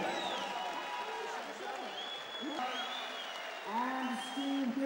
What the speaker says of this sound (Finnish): yleisön hurjasti kannustaessa